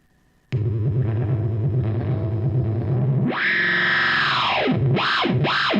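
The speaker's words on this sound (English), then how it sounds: "That's my favorite thing to do with with a sort of an analog style delay" Electric guitar notes swelling through a warped, repeating analog-style delay that builds into loud, wobbling, pitch-bending echoes.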